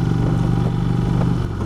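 A 2016 Indian Vintage motorcycle with a 110 cubic inch engine idles close by, giving a loud, steady low rumble with a slight uneven pulse throughout.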